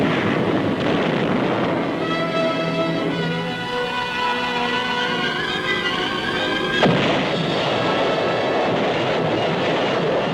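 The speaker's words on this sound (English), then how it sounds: "First, heavy preparatory fire to soften up the objective." A heavy preparatory artillery barrage softening up an objective in wartime: a loud, continuous roaring rumble with layered booms and a sharp falling whistle near the end.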